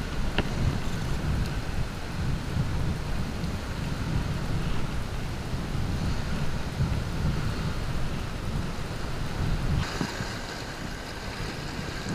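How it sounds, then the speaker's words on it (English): Steady, loud wind buffeting at an inshore saltwater shore during summer fly fishing, a continuous low rumbling roar with gusty surges throughout and a brief easing near the end, no talking. "Certainly not the best wind today, but it's definitely fishable."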